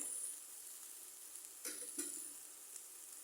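Dal bhuna being fried down in a pan, a soft continuous sizzle with a couple of brief stirring scrapes, quiet and steady with no voices.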